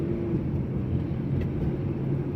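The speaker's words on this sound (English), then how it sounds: "Loud exhaust bro." A V6 Ford Mustang with a loud exhaust, heard as a steady low rumbling drone, continuous and fairly close, with no voices.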